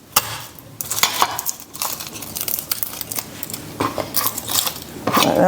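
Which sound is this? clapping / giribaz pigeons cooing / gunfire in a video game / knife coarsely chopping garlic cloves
knife coarsely chopping garlic cloves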